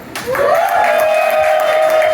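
A roast audience applauds and cheers for the maid of honor, with steady dense clapping and a loud sustained whoop rising over it, close and continuous for about two seconds.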